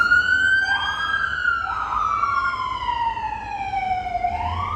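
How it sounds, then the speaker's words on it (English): An ambulance siren wails as the vehicle passes, its steady rising and falling tone loud and sustained over low road rumble, with no talking. "ambulance."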